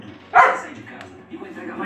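A dog gives a single sharp bark close by, followed by quieter whimpering sounds and low background noise.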